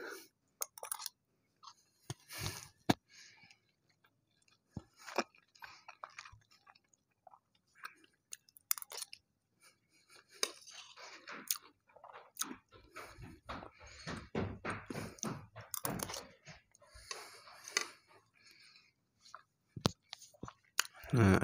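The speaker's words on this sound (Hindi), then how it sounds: "तो अब अल्हम्दुलिल्लाह से खाते हैं" Close, wet chewing of reheated cooked rice, with irregular bites and smacks spread across the stretch, plus occasional light clinks and thunks of utensils. There is no talk.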